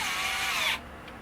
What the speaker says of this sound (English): we're going to do it with the drill bit, even though it's a little bit aggravating to drill the cardboard